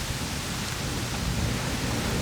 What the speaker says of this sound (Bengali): তখনই উঠে আসলো ঝড়, তার সাথে অনেক বজ্রপাত হচ্ছিল।